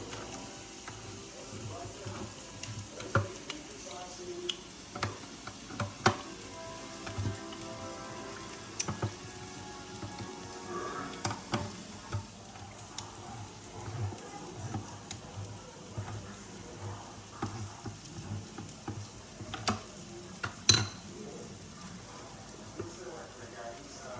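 A manual can opener working around cans makes repeated clicking, ratcheting crunches in irregular bursts, with a person talking intermittently over the kitchen noise.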